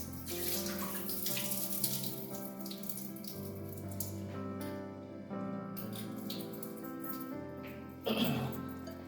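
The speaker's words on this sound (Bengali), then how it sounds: "এই জলটা আমি আপনাদেরকে ফেলে দেখাচ্ছি জলটা পুরো ফেলে দিতে হবে" Water poured off washed sago grains, a continuous splashing, running stream with gurgling, briefly easing midway and surging again near the end, no talk.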